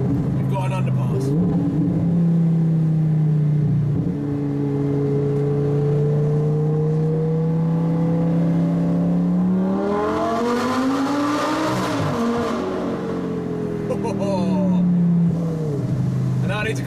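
A McLaren 570S supercar drives through an underpass on the way onto a motorway, its engine droning and then revving hard as the note climbs sharply and echoes, with other cars nearby and a voice speaking over it.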